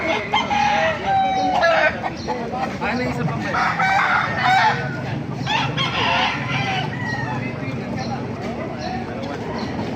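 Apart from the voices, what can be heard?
rooster crowing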